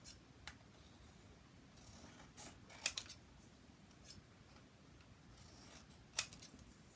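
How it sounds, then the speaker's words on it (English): Long-bladed scissors trim scrapbook paper in a few light, sparse snips with soft rustles between them, close and quiet, no talking. "So I take my long bladed scissor."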